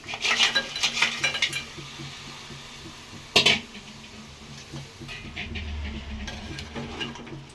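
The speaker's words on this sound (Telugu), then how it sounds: "ఇట్లా కలిపిస్తాను మంచి కలిసేటట్టు అయితే కలుపుకోవాలి వీటికి మంచిగా" Crabs being stirred in a metal pot while making Godavari crab curry, clinking and scraping in repeated bursts with one sharp clatter midway, moderately near, with a low rumble toward the end and no talk.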